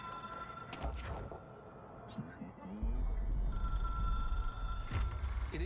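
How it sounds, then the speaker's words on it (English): A telephone rings in the video game Control, a repeated electronic bell tone sounding over game ambience and a low rumble, with a person talking over it. "It is a phone."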